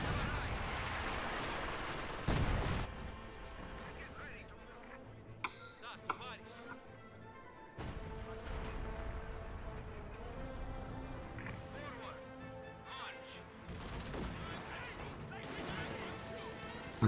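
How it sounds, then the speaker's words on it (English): An artillery barrage pounds a bridge in Company of Heroes 2, with heavy booms and crashes rising in several waves over a rumbling battlefield, moderately distant and fairly faint overall. "Artillery barrage going down on the north bridge."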